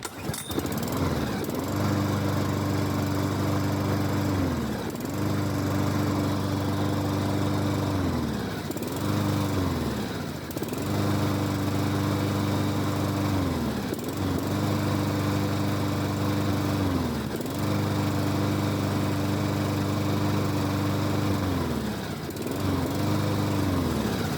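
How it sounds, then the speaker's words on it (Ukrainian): A Mountfield SP48 petrol lawn mower engine runs steadily and loud up close, its drone cycling in a repeating pattern of brief dips and recoveries every few seconds throughout. "Е, косарка працює, їде, газ відпустили, вона глохне."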